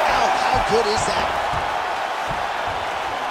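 A roaring crowd at an MMA bout between Mayra Bueno Silva and Joanna Jedrzejczyk swells after a grueling ground battle, a loud sustained wash of cheering under an excited commentator's voice.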